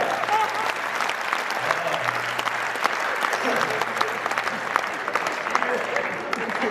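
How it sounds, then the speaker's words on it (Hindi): An audience at a Hindi kavi sammelan poetry recital claps steadily and fairly close for several seconds, a continuous dense patter of many hands with no pause. "तालियां थोड़ी कम है।"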